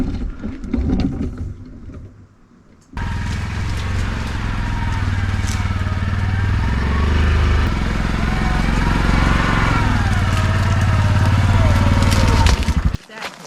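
A four-wheeler ATV engine runs steadily on a wooded trail being cleared, a loud continuous rumbling drone that starts abruptly and holds for about ten seconds before cutting off, with brief talk before it.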